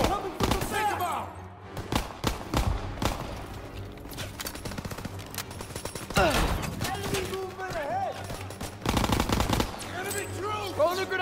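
Rapid bursts of machine-gun fire rattle through a World War II battle in Call of Duty WWII. The loud volleys repeat in clusters, and shouting voices come through between them.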